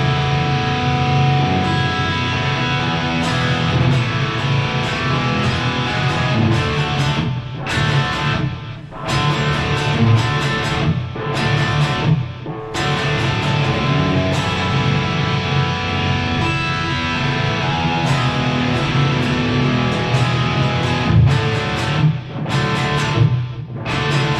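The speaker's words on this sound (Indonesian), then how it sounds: "pakai distorsi kira-kira gini suaranya" Electric guitar with heavy distortion plays a sustained rock riff for the whole stretch, dense and loud, with brief breaks between chords and no talking over it.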